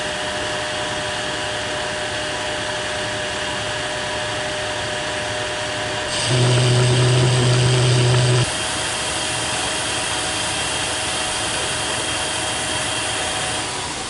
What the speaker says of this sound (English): now I'm turning this diameter down to 1/2 inch for the threaded portion of the drawbar